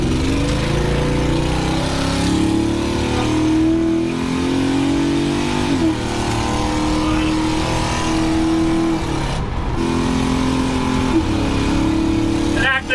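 A 1957 Chevy engine revs hard while the car drives, loud and close, its pitch climbing and dropping through several gear changes with a sustained throaty drone.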